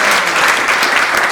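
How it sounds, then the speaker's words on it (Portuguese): Congregation at a Sunday morning church service applauding, a dense, steady wash of many hands clapping close and loud throughout. "Você pode aplaudir o Senhor Jesus nessa manhã?"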